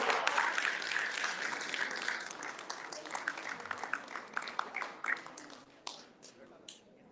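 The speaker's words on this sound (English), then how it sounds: "Let's have a huge round of applause for Mr." Applause from an audience at a Shivaji Maharaj Jayanti celebration in the USA, as a guest is called on stage: a dense, steady wash of many hands clapping that thins into scattered claps toward the end.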